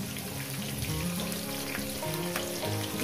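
Onions and green chillies fry in a pan with a dense, continuous sizzle and bubbling that stays even and close, with no speech over it.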